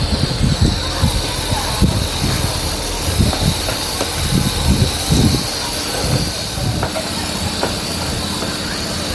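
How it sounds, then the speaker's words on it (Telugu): Grated raw mango chutney with pounded dried red chillies frying in a pan, giving a steady broad hiss and sizzle with small crackles, close and fairly loud, with no talking. "ఇది ఒక 5 నిమిషాలు ఇలాగే వేగించుకోవాలండి"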